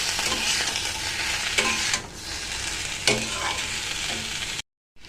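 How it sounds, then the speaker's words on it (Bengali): A curry of split-pea fritters with cumin, ginger and green chili paste is stirred in a sizzling pan; a continuous fry hiss is broken by a few spatula scrapes before the sound cuts abruptly to silence. "জিরে আদা আর কাঁচা লঙ্কা পেস্ট দিয়ে দিলাম দিয়ে এবার নাড়বো একটুখানি"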